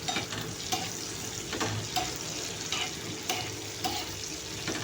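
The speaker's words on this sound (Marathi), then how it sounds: "आता मी हे तुम्हाला दाखवते करून फ्राय. हे पहा, 1 ते 2 मिनटं, फक्त 1 ते 2च मिनिट फ्राय करायचे आहेत आपल्याला" Dry fruits frying in salted butter in a pan, a close, steady soft sizzle with regular scrapes and clicks of stirring and no voices.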